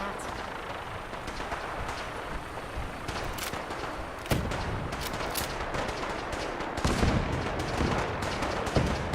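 Gunfire in the video game Fallout 4, a dense run of rapid shots and impacts over a constant noisy bed, growing heavier in the second half.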